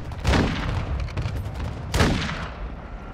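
Gunfire in the Call of Duty Modern Warfare II beta, in a street battle with tanks: two loud, close blasts about two seconds apart, each trailing into a rumbling decay over continuous battle noise.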